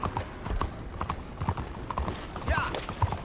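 A horse's hooves clip-clop at a walk in the Red Dead Redemption 2 video game, an irregular series of close, clear hoof strikes with faint background ambience.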